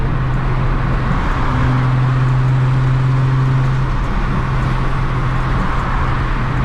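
A Nissan 350Z fitted with a single exit exhaust drives along, its engine droning loudly and steadily from inside the cabin, with a tonal rise in pitch midway as it pulls through a gear.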